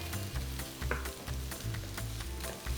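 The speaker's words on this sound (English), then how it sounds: "Allow the frica to get toasted with the oil" Freekeh toasting in hot oil in a single pot, a steady crackling sizzle with a few stirring scrapes and clunks layered over a low hum.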